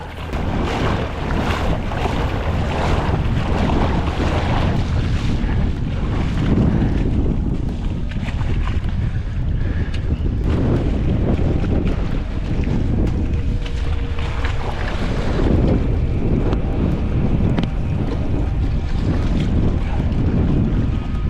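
Strong storm wind roars and buffets continuously around a small boat, gusting hard against the microphone with rushing water noise beneath, loud and unbroken.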